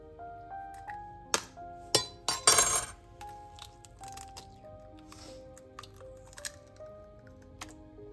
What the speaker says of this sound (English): Now break open 2 eggs